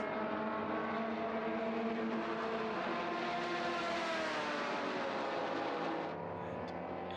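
Vintage racing cars, including a Porsche Carrera GTS with a 2-litre flat six, scream past on the Estoril Classics circuit, a loud rising engine wail that swells and then drops away abruptly near the end.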